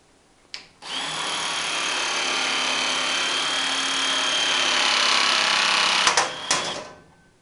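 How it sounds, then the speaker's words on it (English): An ALFRA cordless compact punch drives through metal to cut a round hole: after a brief click, a steady, loud, buzzy mechanical whir runs for about five seconds, then stops with a couple of sharp clacks, close by and without talk. "Now all it is a simple pull of the trigger, and you will see, you will hear a little machine gun effect and easily a 5-second hole."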